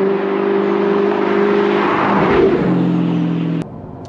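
A sports car engine, either an Aston Martin DB9 V12 or an Audi R8 V8, revs loud and close with a strong, sustained growl that shifts pitch before cutting off abruptly to a quieter idle.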